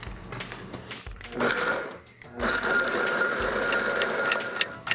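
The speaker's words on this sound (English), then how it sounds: "I'm gonna scrape down the sides and then blend again" A countertop blender whirring through a vegan Caesar salad dressing, running in loud bursts with short stops in between, near and without talk.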